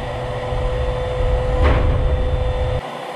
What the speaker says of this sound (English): Remember when I said this vacuum adapter can get in deep holes if needed?